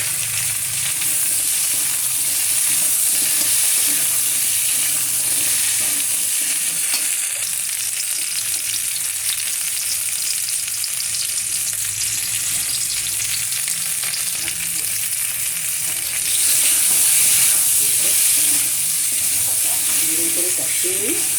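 Taro and potato sauté with reddened, browned onions in a pan, producing a loud, steady hiss and sizzle with stirring that carries on unbroken and swells briefly near the end.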